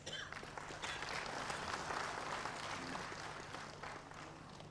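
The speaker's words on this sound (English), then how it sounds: "May we have a round of applause for all our guests." A crowd at an official ceremony during a presidential visit to Manipur gives the guests a round of applause, a steady wash of clapping that swells slightly midway and stays even, a little distant, with a faint hum underneath.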